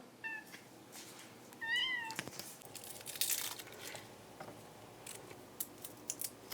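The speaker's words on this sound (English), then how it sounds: "I'm talking to baby cat." A kitten gives a few short, high, thin meows near the start, close by in a kitchen, followed by soft crinkling and handling noises with no talk.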